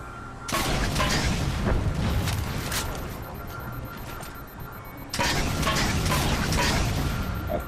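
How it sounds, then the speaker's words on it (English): Railgun shots and explosions in the video game Halo 4 on Legendary difficulty, two loud, sustained blasts with rumbling booms and mechanical rattle, the second starting abruptly partway through, with no talking. "So let's pull the railgun back out. Get a good shot at the second one."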